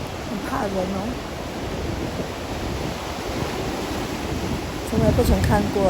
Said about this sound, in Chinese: 从来不曾看过大马的海浪这样大。